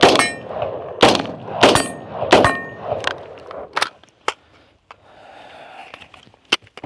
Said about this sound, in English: That's your reload for the day.